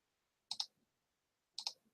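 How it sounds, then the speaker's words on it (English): Computer mouse clicks while tracing a path in embroidery digitizing software, two quick double-clicks about a second apart, close and faint in a quiet room. "I'm just clicking multiple times to create the circle around here"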